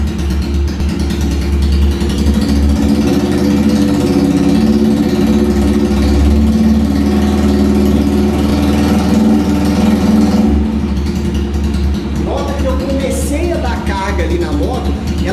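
A motorcycle engine running on a lean mixture idles loudly and steadily, then gets a light rev toward the end. Someone talks over the engine noise.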